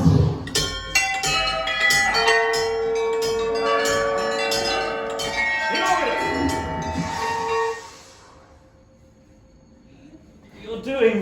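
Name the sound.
bell ringing at a Universal Studios Japan wand spot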